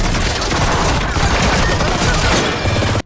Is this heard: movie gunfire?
yes